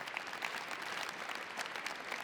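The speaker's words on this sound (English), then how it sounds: "If you could give our exhibitors and sponsors a huge round of applause" A legal-technology conference audience at an opening keynote gives exhibitors and sponsors a round of applause, an even wash of many hands clapping, faint and distant throughout.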